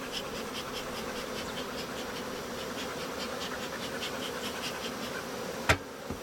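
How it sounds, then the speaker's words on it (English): Honeybees hum steadily in a nearly emptied hive box as a beekeeper smokes them near a queenless colony, a close, continuous buzz with one sharp knock near the end. "There are very few bees left in this box now. I'm going to smoke them again and then just brush them."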